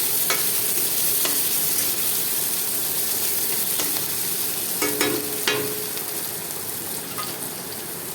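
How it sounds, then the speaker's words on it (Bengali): Potatoes fry in oil with garlic and green chillies, a steady close sizzle with occasional scraping stirs and small clicks of a utensil against the pan. "দিয়ে ভালোভাবে তেলের সঙ্গে আলুটা ভেজে নেব হালকা করে"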